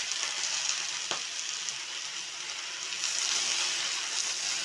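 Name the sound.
sauteing okra in a pan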